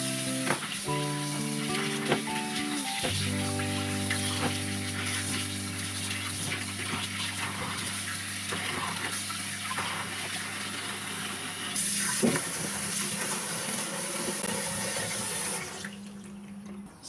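Running tap water steadily splashes over a boiled pig's tongue being rinsed in a sink, a continuous close gush over soft background music, with no talking.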